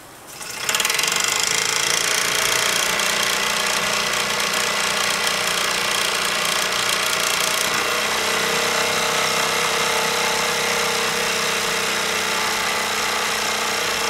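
Mamod SW1 model steam wagon running, heavily geared down, its cylinder and piston in the back wheel giving a continuous fast chuffing pulse, loud and close, with a steady hiss and no talk.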